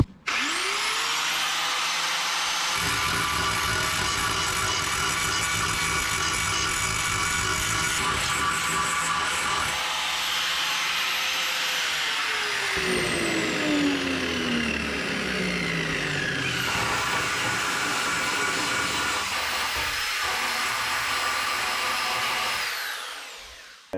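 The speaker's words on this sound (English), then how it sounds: "So a quick clean up with the grinder, and we've lost no material on this panel, but we've got the spot weld off." Angle grinder cleaning a drilled-out spot weld on a steel panel of a VW Transporter T4 under restoration, a loud steady whine with shifting pitch as it bites into the metal and spins down.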